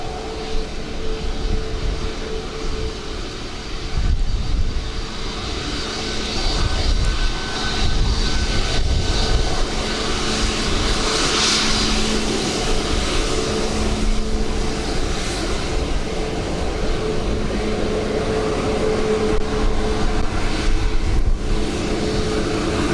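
A large jet airliner lands on runway 28 left at Dublin Airport in wet weather, its engine roar steady and fairly loud throughout with a broad rushing wash and faint tonal hum, no talk.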